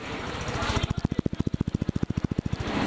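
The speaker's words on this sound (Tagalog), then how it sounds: "O, tinan mo, ang tahimik na makina." A Euro Samurai 155i motorcycle engine runs at a steady idle, its rhythmic low thumping pulses close and fairly even, with no talk over it.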